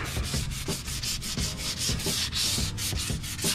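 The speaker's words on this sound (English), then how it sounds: "I'm taking a sandpaper and I'm going to lightly sand this to really get a good adhesion with my new sealant" Sandpaper rubbing lightly over a window frame being prepped for new sealant, a steady close scratchy swishing in quick back-and-forth strokes with no talking.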